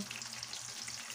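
Pork for sweet and sour pork fries in very hot cooking oil, a brief, steady, quiet sizzle with no voices.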